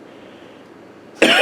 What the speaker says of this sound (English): I have a cough that'll never go away.